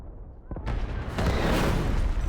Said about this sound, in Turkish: Bombalar bombalar